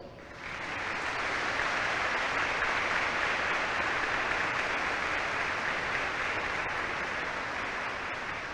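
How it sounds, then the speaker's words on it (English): Sustained applause from a large audience honoring awardees at a military basic camp graduation ceremony, a steady dense roar of clapping that swells in and holds evenly for several seconds with no voices over it. "please join me in giving our awardees a round of applause"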